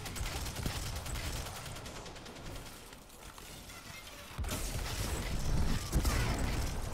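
Gunfire in the video game Destiny 2, played during the beta, with dense mechanical rattling bursts that grow louder and heavier in the second half of the clip, with no talking.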